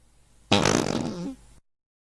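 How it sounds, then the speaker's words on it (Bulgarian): A loud, wet fart bursts out abruptly and rumbles on for about a second before cutting off, alone with no talk over it. "Ти ли пръдна преди малко, бе?"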